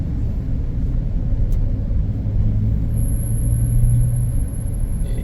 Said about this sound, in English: But they forgot to mention the traffic.